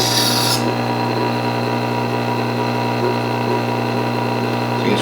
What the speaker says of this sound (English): If you don't have time to sharpen a knife